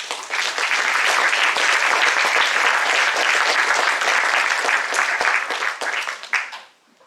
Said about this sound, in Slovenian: En aplavz za Ditko, lepo prosim.